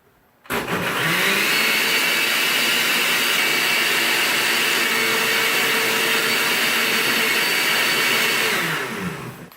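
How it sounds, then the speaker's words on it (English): A kitchen blender whirs at high speed blending meal prep ingredients, switching on abruptly into a loud, steady roaring whine that holds for about nine seconds before cutting off, with no talking. "Now that we have everything in our blender, it's time to blend."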